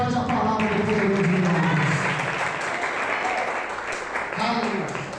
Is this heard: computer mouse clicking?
no